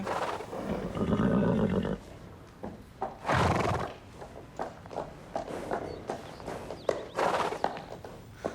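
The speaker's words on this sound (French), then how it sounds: "il est à qui ce cheval?" A horse whinnies loudly, then gives shorter snorts and neighs amid hoof clops and shuffling movement nearby.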